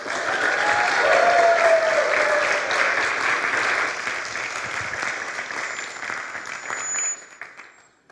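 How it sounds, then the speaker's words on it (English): Audience applause at a live church talk at Unity of Boulder, a sustained burst of clapping from a seated crowd that starts loud, holds steady, then thins out and fades near the end. "You applaud now, but you haven't heard the talk yet."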